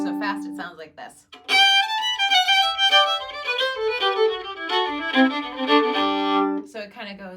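Irish reel Tripping Down the Stairs played fast on a melodic instrument, a quick run of bright, closely spaced notes after a brief opening phrase, clear and fairly loud, with no talking over it.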